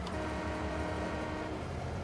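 A train engine idling after starting in the video game Farming Simulator 22, a steady, dense low rumble with a continuous mechanical drone that holds evenly throughout at moderate loudness.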